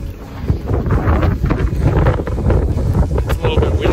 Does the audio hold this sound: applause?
no